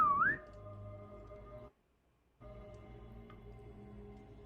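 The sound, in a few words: whistling imitating an alluring song-like whistle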